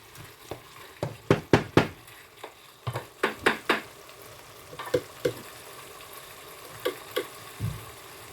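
Spices frying in a pan with oil while tomato rice is being prepared, giving a soft steady sizzle under repeated sharp clinks and scrapes of a spoon stirring against the pan, with no talking.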